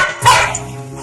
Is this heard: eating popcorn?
no